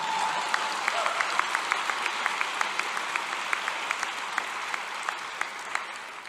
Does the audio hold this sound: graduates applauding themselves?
yes